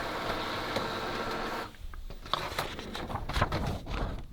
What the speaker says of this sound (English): this is where it's going to come out with that nozzle check